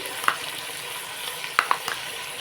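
Ginger garlic paste sizzles in a pan for a prawn biryani, a steady broadband hiss punctuated by a few sharp spoon clinks as it is stirred.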